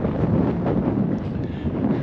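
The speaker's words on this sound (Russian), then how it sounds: "Да, место открытое, поэтому ветрище." Strong gusty wind buffets the microphone at an open spot on the bank of the Yenisei near Divnogorsk, a continuous loud roar with no speech.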